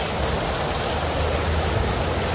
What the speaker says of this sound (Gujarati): એવો વરસાદ આવે છે.